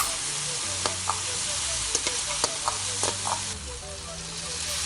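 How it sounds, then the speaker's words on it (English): Garlic and potato pieces fry in a hot pan with a steady sizzle, broken by a few sharp scrapes and clicks as the utensil stirs them. "I am adding in the garlic, the potatoes, and letting them fry a little bit."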